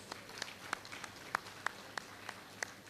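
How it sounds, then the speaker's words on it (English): A few scattered, sparse claps from the audience at a club awards night, spaced unevenly and faint over a quiet room. "a huge round of applause for"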